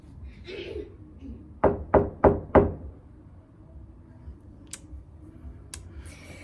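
Four loud, evenly spaced knocks hit a door in quick succession, then a few faint clicks follow over a low room hum.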